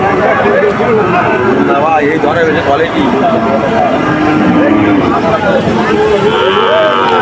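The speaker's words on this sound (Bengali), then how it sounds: "এই যে এনাদের গরুগুলো কথা বলতেছে" Several cattle at the Monirampur cattle market moo repeatedly, long drawn-out calls rising and falling amid the steady babble of a crowded outdoor gathering.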